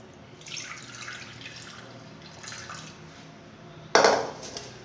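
Water splashing and trickling over bitter gourds being washed in a bowl or sink, soft dribbling sounds followed by a sudden louder pour near the end, close up with no talk.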